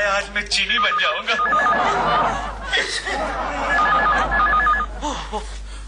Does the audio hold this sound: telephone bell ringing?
yes